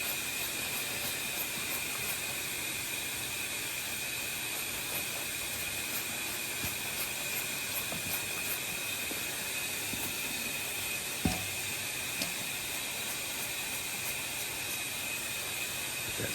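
Air hisses from a pressurized big block Mopar engine being checked for a rear main seal leak: a steady, continuous hiss with no pauses, broken only by one brief knock partway through.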